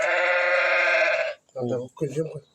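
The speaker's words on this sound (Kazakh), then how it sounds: "Қошақандар міне қозылар." Lambs and sheep in a pen, one long loud bleat up close followed by two shorter bleats after a brief pause.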